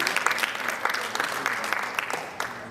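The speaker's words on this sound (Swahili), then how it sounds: "Mpigeni makofi." An audience at a Nairobi arts and film digital literacy programme breaks into sustained applause, many hands clapping in a dense, lively wash with some voices mixed in.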